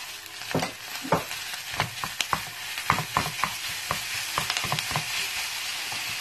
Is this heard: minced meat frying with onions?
yes